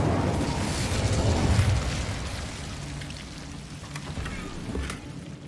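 Incendio fire spell cast in Hogwarts Legacy, a roaring, crackling burst of flame that swells early, then fades into a softer, steady hiss with a small flare near the end.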